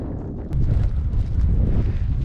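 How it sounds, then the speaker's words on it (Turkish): Steady wind buffets the microphone beside a tent at a mountain lake in Kyrgyzstan's Tian Shan, with a low, rumbling roar that swells after a brief dip and stays strong throughout. "Rüzgar da var. Büyük ihtimal belli oluyordur sesi."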